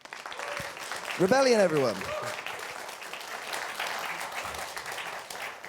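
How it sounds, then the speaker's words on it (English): A voice speaks briefly, then audience applause at a developer session at the EGX Rezzed 2019 gaming convention swells and continues steadily, filling the room to the end. "give a massive round of applause to the guys that made that happen"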